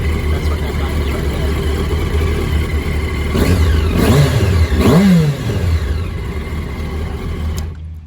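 A 2006 Yamaha R1 LE sportbike engine idles steadily, then is blipped twice in quick succession, each rev rising and falling sharply before settling back to a loud, close idle.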